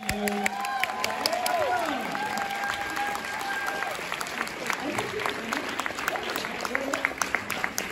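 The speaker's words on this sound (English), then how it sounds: "can we please have a huge New York Comic Con round of applause and a huge thank you" Audience applause at a New York Comic Con panel in a large hall, steady crowd clapping sustained throughout with faint tonal sounds and voices underneath.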